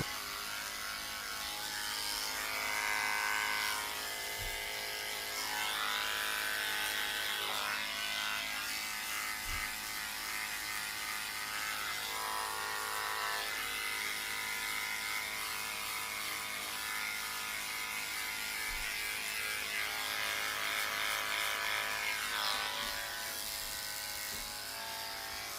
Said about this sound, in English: I'm shaving her private area and her belly out with the 10 blade.